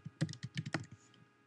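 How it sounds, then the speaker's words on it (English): A password typed on a computer keyboard, a quick burst of about ten close, crisp key clicks over about a second, then quiet, with no voices. "Next, type in your password."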